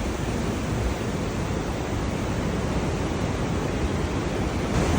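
Waves roll in at Diamond Bay, Sydney, producing a continuous close roar of surf and spray mixed with wind buffeting, fairly even in loudness with a small rise at the end.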